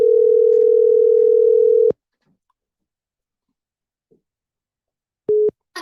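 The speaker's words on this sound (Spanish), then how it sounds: "vamos a llamar para atrás a un teléfono que nos ha estado llamando mucho" A continuous telephone dial tone plays loud and steady for about two seconds while a number is called back, then cuts off into near silence before two short tone bursts return near the end.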